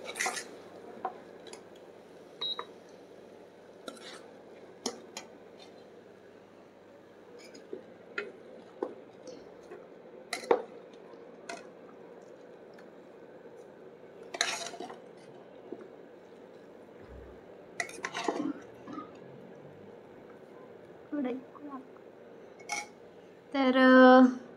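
A metal spoon scrapes cooked drumstick-leaf (shevga) vegetable out of a pan, giving scattered soft clinks and scrapes spread over a quiet stretch, with a louder clatter of utensils near the end.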